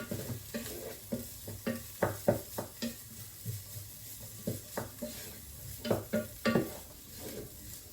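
Garlic and onions sizzle in a hot pan while a utensil scrapes and knocks in irregular strokes, close and fairly loud.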